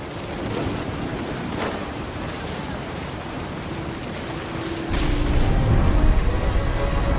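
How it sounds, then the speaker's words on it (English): Thunder rolls through a stormy night in What Remains of Edith Finch, a steady wash of rain-like rumble that swells into a louder, deeper boom near the end, with no voices present. "The thunder sounded much too close and full of angry power."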